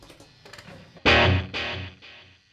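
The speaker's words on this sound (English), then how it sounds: "My main go-to delay is the tape echo delay on the M13, and that's tap tempo." Electric guitar through the tape echo delay of a Line 6 M13 pedal: two loud, bright strummed chords with repeats trailing off behind them, after softer picked notes at the start. No one speaks.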